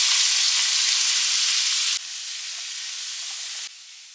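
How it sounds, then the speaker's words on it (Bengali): Sliced onion frying in hot oil with dried red chilli, bay leaf and chopped garlic makes a loud, steady hiss and sizzle close by that drops abruptly in level twice. "ফোড়ন হিসেবে অ্যাড করছি শুকনো লঙ্কা, তেজপাতা আর চপড গার্লিক। অ্যাড করছি স্লাইসড অনিয়ন"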